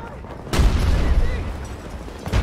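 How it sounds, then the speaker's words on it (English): Explosions and gunfire in the video game Battlefield 2042: a loud, deep blast bursts in and rumbles away, then a second burst of fire hits near the end, with a low battlefield rumble between them. "Man, everything exploded."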